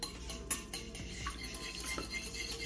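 A toddler stirs a mixture in a bowl with a utensil, making light clinks and scrapes against the dish in an irregular rhythm, close and fairly quiet.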